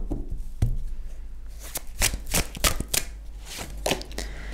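A tarot card is drawn and handled, giving a series of short, close card slaps and papery flicks over a few seconds, with a low hum underneath.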